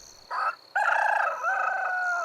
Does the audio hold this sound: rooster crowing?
yes